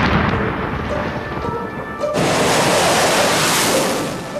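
A heavy, rumbling roar from US Air Force aerial bombing in Kabul, Afghanistan, swells suddenly partway through into a loud, broad blast of noise that sustains, like distant explosions merging into a continuous boom.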